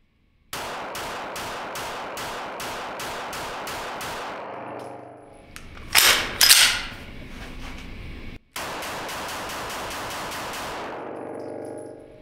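An HK VP9 pistol fitted with a gas pedal fires in quick strings of sharp, loud shots outdoors, with a burst of rapid fire, a pause with clanging, then another fast string of shots.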